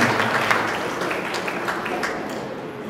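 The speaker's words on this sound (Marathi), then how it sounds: "संघटनेच्या वतीने आपण जोरदार टाळ्या त्यांचं अभिनंदन करूया" Applause from a seated audience at a senior citizens' association anniversary gathering at a church hall, a dense steady clatter of many hands lasting throughout, fairly loud and close.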